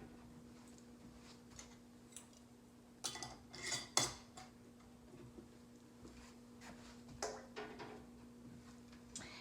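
Glass canning jars of ham stock are set into a canner, giving faint, sporadic clinks and knocks of glass on metal at low volume.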